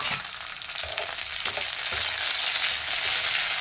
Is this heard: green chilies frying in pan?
yes